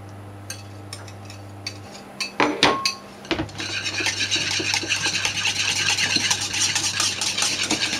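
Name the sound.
whisking egg yolks into lemon cream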